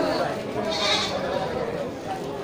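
Goats and sheep bleating in a busy livestock market pen, including does with kids, their calls mixed with steady crowd noise and people talking nearby.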